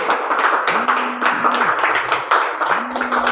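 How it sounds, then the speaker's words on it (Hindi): Audience clapping to welcome a guest onto the stage at an event, steady dense applause throughout with a recurring low tonal hum and faint voices underneath. "एक बार जोरदार ताली होनी चाहिए सर के लिए।"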